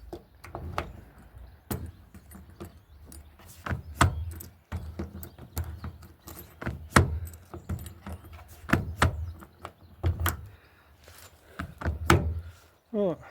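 Someone repeatedly pulls and rattles the locked driver's door handle of a Vauxhall Vivaro van, making a series of irregular dull thunks and clacks, close by with quiet pauses between.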